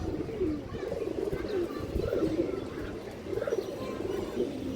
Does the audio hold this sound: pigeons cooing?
yes